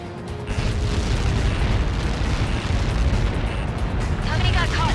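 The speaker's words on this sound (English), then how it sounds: "How many got caught in that explosion?" A missile impact explosion in the Ace Combat 7 flight game: a loud, sustained rumbling roar that fills the whole stretch and swells again near the end, with no break.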